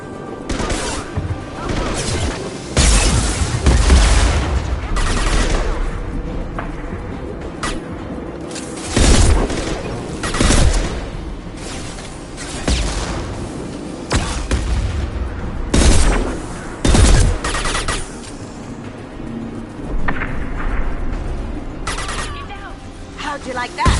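Grenade blasts and rapid gunfire from a Mass Effect 2 firefight, loud booms and crackling bursts repeating through a long chaotic stretch, with voices shouting in between.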